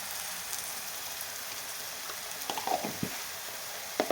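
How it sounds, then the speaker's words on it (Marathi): Finely chopped ingredients sautéing in a pan with a light, quiet sizzle and a few soft spatula scrapes and taps toward the end. "आणि छान परतून घेऊया ह्याला"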